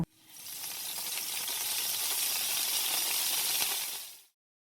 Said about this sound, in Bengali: এখন তেল গরম হয়ে গেলে রসুন কুচি পেঁয়াজ আর সিদ্ধ করে রাখা সবজিগুলো দিয়ে হালকা ফ্রাই করে নেব